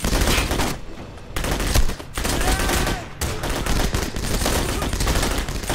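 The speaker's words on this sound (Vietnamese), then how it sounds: "lấy trọng liên để bắn" Heavy machine gun fire from an armoured vehicle rattles in loud, dense bursts at Điện Biên Phủ, with brief pauses between volleys and a chaotic battle din around it.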